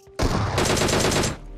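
Rapid bursts of gunfire in a video game, loud and close, starting abruptly and pounding continuously for over a second before briefly easing.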